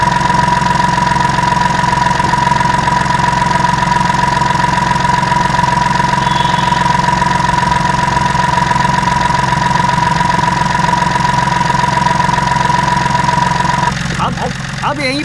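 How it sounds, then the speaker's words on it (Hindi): Diesel flowing under high pressure through an engine fuel line, heard through a mechanic's stethoscope as a loud, continuous mechanical hum with a steady whining tone and engine pulsing, ending with a brief clatter. "ये डीजल के बहने की आवाज़ है और हाई प्रेशर में बहने की आवाज़ है"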